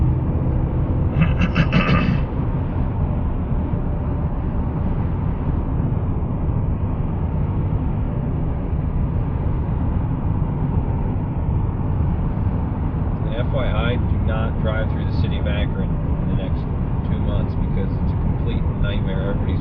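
A 2015 Chevrolet Colorado Z71 truck driving, its steady low engine and road rumble droning inside the cab under a person talking most of the time.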